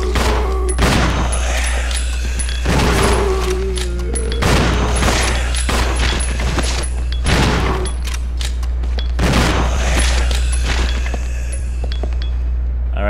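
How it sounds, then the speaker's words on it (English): Repeated shotgun blasts from a zombie fight in the GameCube game Resident Evil Zero, with several loud booming shots spaced a couple of seconds apart over a steady game soundscape. "Billy, in this particular instance, you have permission to equip your shotgun and attack"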